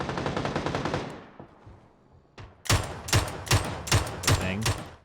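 MK47 Mutant fire in PUBG: a rapid burst, a short lull with a faint single report, then five or six loud, evenly spaced bursts close by, with speech tagged faintly under them.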